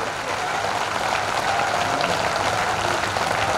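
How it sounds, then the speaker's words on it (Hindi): Thunderous audience applause fills a Hindi poetry recital (kavi sammelan), a dense, steady wash of many hands clapping at once, loud and sustained for the whole stretch with no voices rising above it. "बेटी आसमान में देर तक आपकी तालियों की गड़गड़ाहट उस बिटिया का सम्मान करे"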